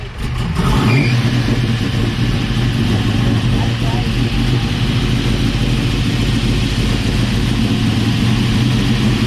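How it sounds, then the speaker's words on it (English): A custom car's engine runs steadily at a rod and custom car show on a speedway, a loud continuous low rumble close by with a brief rev near the start, while people talk nearby. "That engine is bumping inside."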